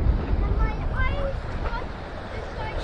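Gentle sea waves wash at Hopeman Beach on a windy evening, a soft continuous surf mixed with wind noise and a few faint bird calls.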